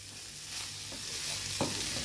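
Onions for a samosa filling sizzle and fry in a pan, a soft, steady crackle with a couple of brief stirring scrapes, close and fairly quiet.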